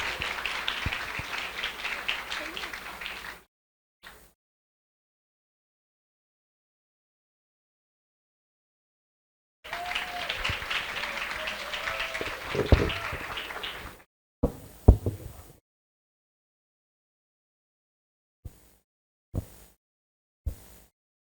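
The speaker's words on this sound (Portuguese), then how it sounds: "Uma salva de palmas." Audience applause at a celebration marking a Spiritist cultural center's 41st anniversary, a steady crowd clapping for several seconds, then silence and a few short scattered bursts of claps near the end.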